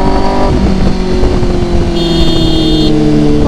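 Kawasaki Z900 motorcycle fitted with an Arrow full exhaust system, revving loud and close with steady throaty engine tones that shift pitch partway through.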